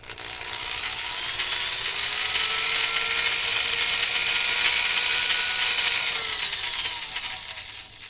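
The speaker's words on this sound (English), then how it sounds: "Run it in a little bit and tighten up the chuck. And then I can run it." A 3D printed rzeppa joint held in a drill chuck spins up and runs at speed, making a steady high mechanical whir with a rattling, ratchety texture that fades as it winds down, with no voices.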